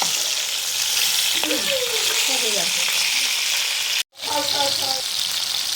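Pieces of rohu fish fry in oil with a continuous, fairly loud crackling sizzle, broken briefly by a short gap, while a faint voice and a few tonal sounds drift in underneath.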